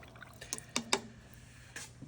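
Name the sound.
paintbrush being rinsed in water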